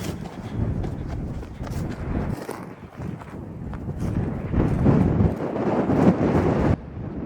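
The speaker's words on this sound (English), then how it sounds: "I know it's really windy because I mean there's nothing out here" Strong wind buffets the microphone on open ground by a lake, a loud, continuous roaring rumble that gusts and surges throughout.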